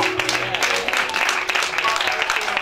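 A church congregation during a sermon by a bishop claps and applauds steadily in a lively, reverberant room, with voices calling out over the clapping.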